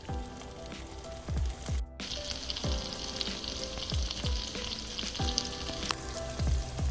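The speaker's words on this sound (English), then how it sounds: "I want them to start cooking and getting crispy, and you cook these until they are fork tender." Potatoes crisping in a pan over a medium flame, a steady close sizzle and spit of hot fat with repeated soft clinks and scrapes of a utensil turning them at fairly regular intervals.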